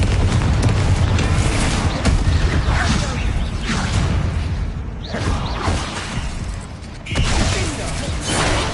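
Booming spell blasts and whooshing explosions from Bombarda and Confringo curses in Hogwarts Legacy, loud and continuous with repeated surges, while a player shouts along over the din.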